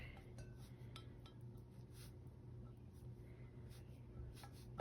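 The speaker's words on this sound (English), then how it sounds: "it's a little sticky, so I'm gonna go ahead and just make sure I scrape that all down" A utensil scrapes sticky gelatin and glycerin mixture from a mixing bowl in faint, irregular strokes and light clinks, ending in a sharp louder knock against the bowl.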